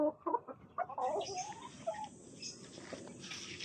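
Boston Roundhead gamefowl chickens clucking in a small backyard coop, a few close, uneven calls in the first second or so, then a steady hiss of background noise.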